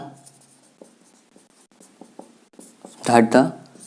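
Pen scratching out physics notes on paper during a class on combining capacitors, faint irregular short strokes close by, followed near the end by a brief loud burst of a man's speech.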